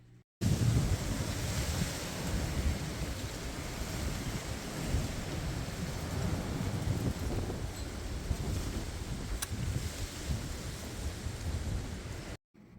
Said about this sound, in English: Boy, was it windy out.